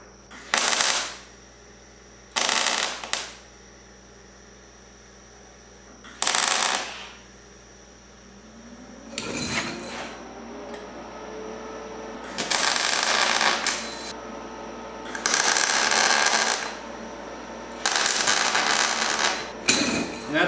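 Short bursts of tack welding on a cab corner patch panel of a Ford F150 extended cab, about seven separate crackling zaps, each a second or two long, with quiet gaps between them and no talk.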